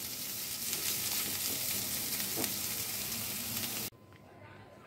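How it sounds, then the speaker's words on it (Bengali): Carrots, beans, peas and sweet corn stir-fried together in a kadai hiss in a dense, even sizzle up close, with light stirring scrapes, before the sound cuts off abruptly near the end. "কড়াইশুঁটি আর সুইট কর্ন সব একসঙ্গে দিয়ে খুব ভালো করে নাড়াচাড়া করে নেব"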